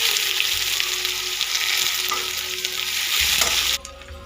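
Onion frying in a wok with dry red chili, bay leaf, cinnamon, cardamom and nigella seeds, a loud steady sizzle that carries throughout, thickening as the onion goes in and cutting off sharply near the end.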